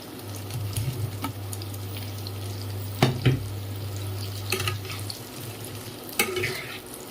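Fried chicken pieces with capsicum and onions sizzle steadily in a pan for restaurant-style chili chicken, while a spatula stirs and scrapes, giving several sharp clinks over the continuous frying hiss, close by with no talking.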